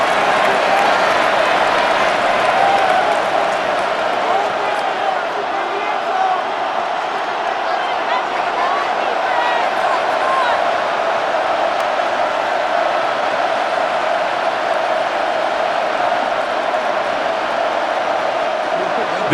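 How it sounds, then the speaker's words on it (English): A simulated stadium crowd in Madden NFL 26 keeps up a steady, loud roar throughout a Baltimore Ravens versus Kansas City Chiefs game before a third-and-goal play, with the noise holding even from start to finish. "This crowd doing everything they can before 3rd and goal."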